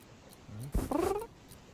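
A cat plays back from a video, giving a brief meow or caterwaul that rises and falls within about a second, faint and slightly distant over low room noise.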